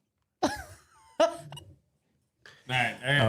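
Several abrupt hiccups pop out near the mic as short, sharp vocal bursts separated by silence, followed by a longer voiced sound.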